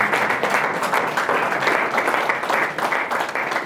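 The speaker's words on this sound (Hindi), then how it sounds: "तालियां बजा सकते हो आप।" Audience applause at a vegan festival talk on food and religion, a dense steady wash of many hands clapping together, fairly loud and continuous throughout with no voices on top.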